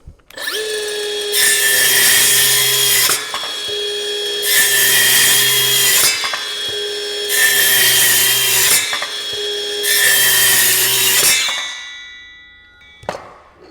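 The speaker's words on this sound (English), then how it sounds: "we're going to cut this 2x4, just take a couple slices" A Milwaukee M12 Fuel cordless circular saw whines loudly through four separate cuts in a 2x4, each a few seconds long with brief pauses, then spins down to quiet with a final click.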